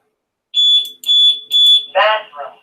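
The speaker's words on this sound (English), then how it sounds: "I have an alarm on every window and everything in here, and it tells me when something's being opened" A home security alarm on a bathroom window chimes when it is opened: a series of bright electronic beeps in quick pulses, loud and near, followed at the end by a brief burst of a voice.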